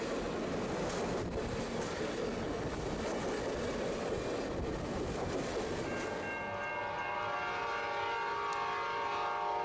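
Norfolk Southern freight train NS 36Q, led by SD70 locomotive 2511, arrives with a loud, continuous rolling rumble and rattle of cars, settling after a few seconds into a steadier droning hum with faint tonal squeal.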